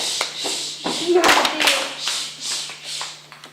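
Schoolchildren in a classroom clap out a rhythm of notes, a handful of uneven, close hand claps in a loose pattern with a voice over them.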